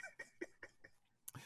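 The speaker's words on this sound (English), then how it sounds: "I still got that residual COVID cough" A short burst of repeated lingering post-COVID coughs, about six in quick succession, fairly quiet and close, ending with a harsher final cough.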